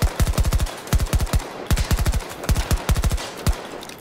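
Rapid bursts of automatic gunfire crackle in quick succession in Battlefield 2042, several short volleys of sharp shots with brief pauses between them, loud and close.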